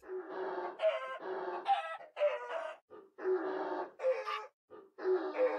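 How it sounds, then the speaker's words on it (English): A Minecraft chicken squawks in quick repeated bursts, about eight close, loud, raspy clucking calls with short gaps and no talk over them. "How much can this chicken take? Why is it making this horrible noise?"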